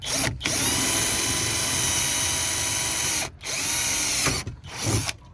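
A power drill bores mounting holes into a Polaris XP ATV, whining loudly and steadily in long bursts close by, with brief pauses between runs and a short final spurt.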